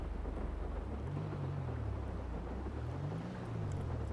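Rain and thunder in GTA V: a steady wash of rain noise over a deep, rolling rumble that swells and fades twice, moderately quiet, with no speech.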